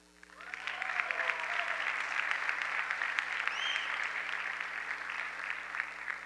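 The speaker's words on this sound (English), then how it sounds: "Let's give a strong round of applause for all of our departmental honors winners" An audience applauds departmental honors winners at a college chapel gathering, steady sustained clapping from a crowd that rises quickly and holds at an even level for several seconds, with no talking over it.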